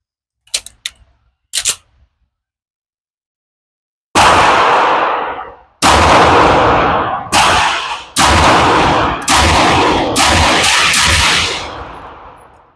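A 2011 pistol, the Alpha Foxtrot Romulus, fires shots on a range: two faint sharp cracks early on, then after a pause a loud string of about seven evenly spaced reports, each ringing out and decaying.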